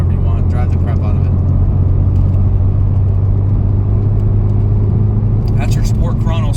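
Porsche 991 Turbo tuned to 650+ HP accelerating hard with its exhaust bypassing the mufflers; a loud, close, continuous engine roar that rises in pitch, with a voice talking over the end.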